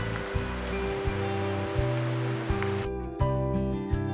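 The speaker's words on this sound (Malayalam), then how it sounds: "നല്ല ചട്ടിയൊക്കെ നല്ല ചൂടായിട്ടിരിക്കുന്നുണ്ട്. അപ്പോൾ നമുക്ക് ഇതിലേക്ക് ഇത് എണ്ണ ഒഴിക്കാം" Cooking oil is poured into a hot pan for chicken fry, making a steady, close, rushing hiss over a low hum that cuts off abruptly near the end.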